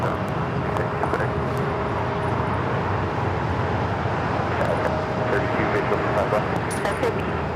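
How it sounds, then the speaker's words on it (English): A China Eastern Airlines Boeing 777-300ER takes off at LAX, a steady broadband engine roar that holds for the whole stretch, with talk running over it. "China Eastern Airlines 586 taking off to Shanghai on the 777-300ER"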